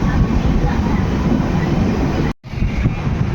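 Steady, loud rumble of the Avadh Assam Express running toward Tinsukia in Assam, continuous wheel and carriage noise heard from on board, briefly cut near the end before resuming.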